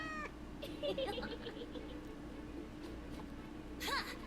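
A cat meows in the Wargroove strategy video game, several short high cries in a row followed by a louder meow near the end, over a low steady game music bed.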